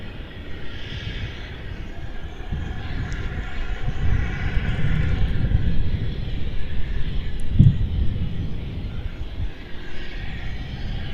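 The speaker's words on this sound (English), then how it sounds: "Qantas Dreamliner off to LA, QF93." A Qantas Boeing 787 Dreamliner departs Melbourne for Los Angeles with a moderately distant engine roar that builds and rumbles, peaking in the middle. A soft breathy noise rises briefly near the end, and there is no clear speech.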